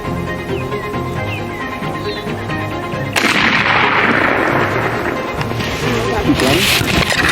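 A gunshot rings out during a spring turkey hunt, a sharp loud report about three seconds in that gives way to a sustained roar and outdoor rumble, with background wind and noise throughout.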